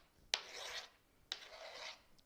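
Tzatziki being stirred in a bowl: two quick scraping strokes about a second apart, each a brief rough rub against the bowl, close and fairly quiet.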